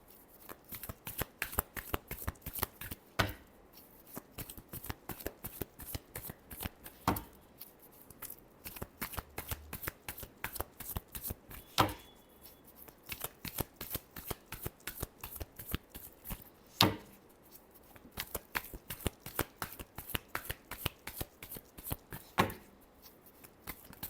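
Tarot cards shuffled by hand in quick riffling bursts, a rapid train of crisp snaps with brief pauses between rounds, close and fairly quiet, no talk.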